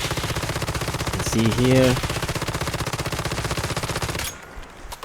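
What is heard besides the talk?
gun shots in a video game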